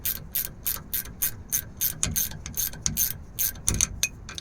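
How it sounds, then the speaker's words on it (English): A 7/16 ratchet wrench backs bolts out of a wrecked L5P truck, its quick metallic clicking coming in regular bursts of strokes, close and fairly quiet, with a few heavier clunks and no talking. "We just take this, it's a 7/16, taking all these bolts out."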